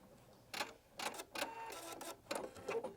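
A Pfaff Creative Icon sewing and embroidery machine trimming its thread automatically, a series of short whirring and clicking mechanical bursts, about six in quick succession, close and fairly quiet with no talking.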